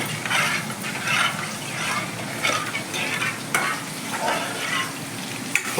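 Masala frying in oil in a pan, a continuous close sizzle broken by rhythmic scraping strokes of a stirring spoon, fairly loud and steady.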